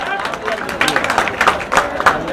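A welcoming audience claps at a live stage event with singers, dense overlapping hand claps with crowd babble and voices mixed in throughout.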